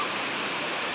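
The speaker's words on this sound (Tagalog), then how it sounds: "yung umaagos na tubig na yan guys is mainit yan siya." Warm water flowing steadily at a resort pool, a continuous broadband rush like a small cascade, close and even throughout with no voices.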